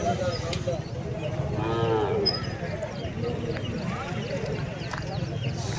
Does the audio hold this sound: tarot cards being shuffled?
no